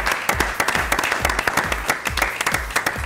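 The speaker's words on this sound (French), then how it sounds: "Tous les deux, on va les applaudir." A studio audience applauds two festival organisers, a loud, close patter of hand claps with rhythmic emphasis, continuous for about three seconds, with no one speaking over it.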